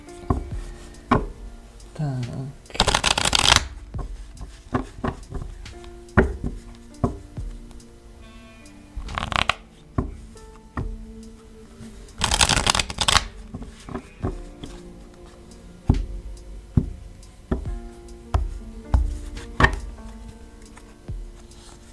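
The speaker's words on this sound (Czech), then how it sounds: "Já si tady budu chvíli míchat karty a uvidíme, co vám budou chtít povědět." Tarot cards shuffled by hand, with repeated riffling bursts and sharp taps and slaps of the deck, close and crisp, with a brief spoken word.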